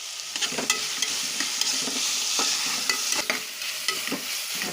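Mint leaves, carrot, beans and peas sizzle steadily in a pan on the stove for veg pulao, with a spoon scraping and stirring in irregular clicks over the constant frying hiss, close by and with no talking.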